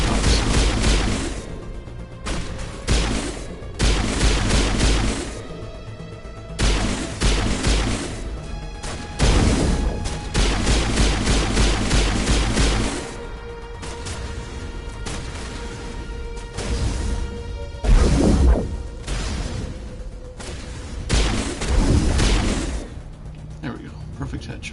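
Loud bursts of gunfire and impacts from a Mass Effect 1 firefight as enemies are killed, arriving in irregular clusters with crashes and explosive hits, with a voice talking over parts of it.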